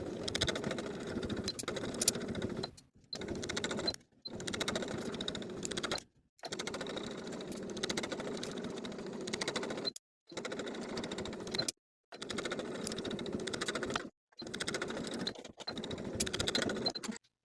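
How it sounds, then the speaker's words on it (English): A sewing machine stitches a seam across all layers of a shirt collar, running in fast whirring bursts separated by brief pauses, close and steady. "Now we'll sew from one side straight across to the other with a 5/8 inch seam allowance, stitching through all layers"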